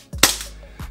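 A JAG Precision Taran Tactical JW3 Combat Master airsoft pistol fires two sharp, loud, close cracks about half a second apart, with no talk.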